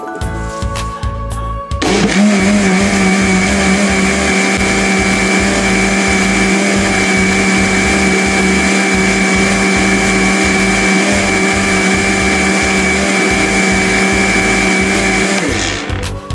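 Blender whirring a shake of banana, cucumber, apple and carrot: after a brief start it runs at a loud, steady high-pitched motor whine with chopping rattle for about fourteen seconds, then cuts off.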